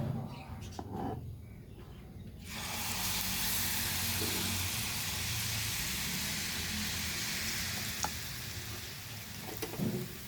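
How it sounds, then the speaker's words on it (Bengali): Malpua batter frying in hot oil in a pan, a steady, loud sizzle that starts suddenly after a short quieter stretch and continues throughout, with faint background sounds. "এটাও আমি এইভাবে ভাজবো।"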